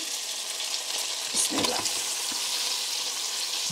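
Boiled greens fried with onion and garlic give a steady, close sizzle, swelling briefly as the pan is stirred and the greens are tossed, with no talk.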